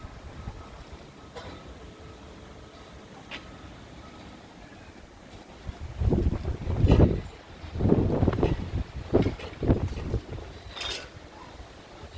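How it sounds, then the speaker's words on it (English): Strong outdoor wind gusts against a roll-up patio bistro blind, rising from a quiet rustle into heavy buffeting bursts of rushing noise and flapping in the second half. "So the wind can be quite strong, as you can see."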